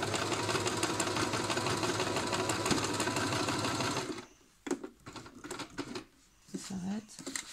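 A sewing machine stitches bias binding into fabric at a steady, dense whirring clip for about four seconds, then stops, followed by scattered handling clicks and someone speaking.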